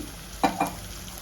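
Tomato-onion paste roasting in a pan for a broiler chicken curry gives a low steady sizzle, broken by two quick stirring scrapes close to the mic.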